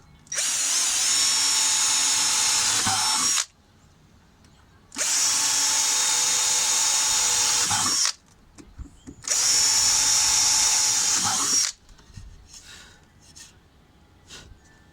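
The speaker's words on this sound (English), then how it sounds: "we're going to go ahead and test the precision wood drill bits" A Ryobi precision wood drill bit bores into wood in three long, steady bursts of a few seconds each, separated by brief quiet pauses, close and loud.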